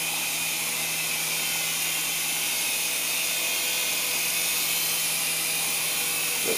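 A small Syma S107 Metal Series RC helicopter in flight gives off a steady, close, high-pitched electric whine with a constant buzzing hum. The sound stays unbroken and even throughout.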